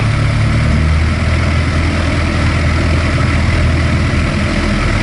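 A Cessna 152 light aircraft engine idles at 1200 rpm, a loud steady drone with a low rumble that fills the whole clip.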